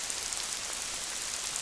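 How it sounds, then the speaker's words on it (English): Heavy rain pours steadily through woodland at Whitehouse Woods, Lamlash, pattering into puddles and across leaves as a dense, even hiss with no voices, close and continuous throughout. "you can hear the rain"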